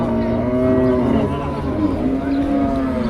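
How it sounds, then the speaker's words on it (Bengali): A native cow at a heifer cattle market in Deohata, Tangail, lets out a loud, drawn-out moo close by, with faint market noise behind it. "দেশি গরু, অনেক টল ফিগার, কিন্তু লম্বা একটি গরু।"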